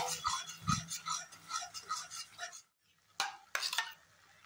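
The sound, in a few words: stirring and sautéing cauliflower roast with spices in pan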